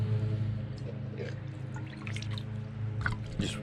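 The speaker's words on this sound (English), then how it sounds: "I'm gonna wet my cloth" Soft, close drips and small splashes of plain water fall while a white microfiber cloth is wetted for headlight cleaning, a few distinct drops standing out near the end over a low hum.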